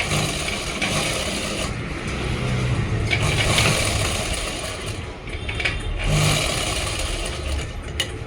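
A sewing machine stitches a folded fabric hem on palazzo pants, running as a steady close mechanical rattle and whir throughout with slight shifts in speed.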